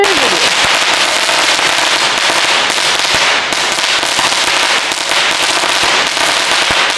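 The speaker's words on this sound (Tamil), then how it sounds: "டிஜிட்டல் வெடி" A long string of digital firecrackers bursts at Diwali, a dense, loud, continuous crackle of rapid pops that runs without pause.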